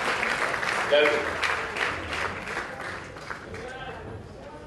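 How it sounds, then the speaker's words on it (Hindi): Audience applause for Javed Sahab at a book launch event, a steady wash of clapping through the clip with voices mixed in. "जावेद साहब के लिए जोरदार तालियां"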